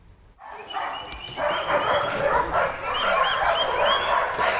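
Puppies at a rescue dog training school outside Mexico City bark and yip excitedly in a lively, continuous chorus, fairly loud and close.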